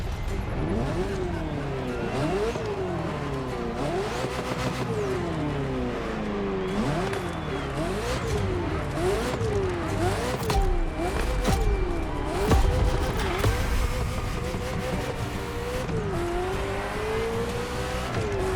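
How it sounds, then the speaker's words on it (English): Ferrari F40 supercar engine in The Crew Motorfest revving hard through repeated gear changes, its pitch climbing and dropping in a steady sawtooth pattern, loud and close throughout with a brief tire squeal. "Ferrari F40, second vehicle of the manufacturer to earn the prestigious supercar status"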